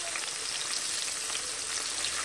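Bacon frying in a pan, giving a soft, steady sizzle and crackle that holds at an even, fairly quiet level throughout, with no voices.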